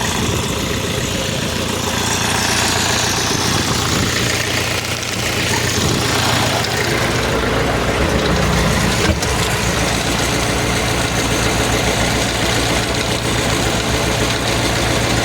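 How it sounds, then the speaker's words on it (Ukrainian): A Skaut 404C tractor engine idles steadily and loudly throughout, a low rumbling drone with constant vibration and no speech. "А так тракторець працює чудово."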